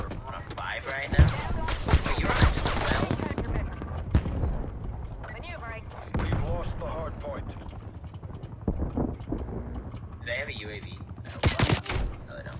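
A thermal-scoped M60 machine gun fires in a Call of Duty Hardpoint match, with sharp bursts of gunfire that cluster early, then come back in short volleys near the end, under almost constant excited talk and game sounds.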